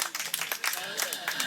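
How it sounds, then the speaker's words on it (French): Audience clapping at a radio amateurs' gathering, a small crowd applauding in a loose, uneven patter, with speech voices mixed in. "Et on peut l'applaudir"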